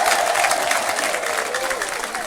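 Congregation clapping at a church service, a dense, steady wash of applause and crowd noise with a sustained voice or tone running through it, fairly loud throughout.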